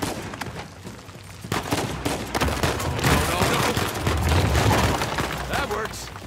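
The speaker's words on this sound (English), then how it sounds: "I'm getting shot at." Gunfire in the video game Uncharted 4: A Thief's End, with dense bursts of shots and rapid fusillades, loud and close, building into sustained heavy firing over rumbling game sound, with a voice briefly speaking.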